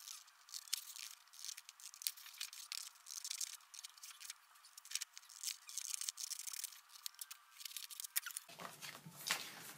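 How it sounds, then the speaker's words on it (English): Scissors cut out a bellows form shape in quick, crisp snips and crunches, close and fairly quiet, ending with a duller rustle. "you're going to cut the form out"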